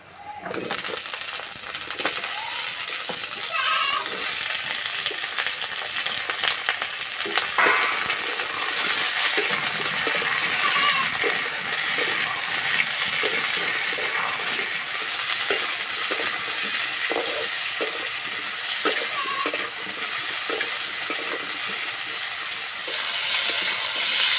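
Cut potatoes and yardlong beans sizzle in a pan with onions, a continuous loud frying hiss with occasional stirring clinks for over twenty seconds.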